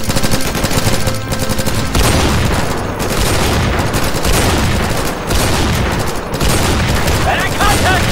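Heavy, loud gunfire in an Insurgency co-op match, with continuous overlapping automatic bursts and booming shots filling the whole stretch almost without pause, with shouted voices mixed into the chaos.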